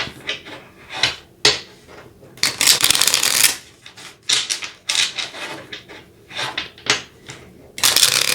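Tarot cards are shuffled close up in repeated riffling bursts, a crisp papery rasp and flutter broken by short pauses between passes.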